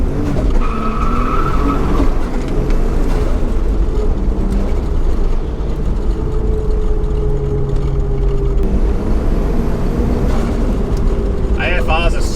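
A Nissan Skyline R31 drives past with a loud, steady engine roar and road noise, tires faintly squealing at moments, while someone talks over it.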